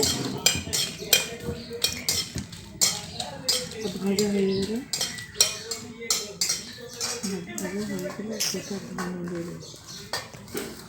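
A utensil scraping and clinking against a pan in repeated strokes as jujube pickle with whole dried chillies is stirred, close and crisp, with a voice talking over it.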